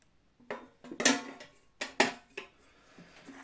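Clattering metal clunks and scrapes as an air fryer pot is lifted and set down, several sharp knocks spaced over a few seconds, close by, with no talking.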